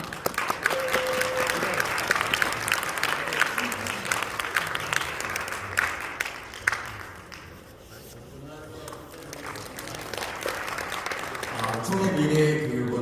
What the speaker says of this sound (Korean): 박수 환영하도록 하겠습니다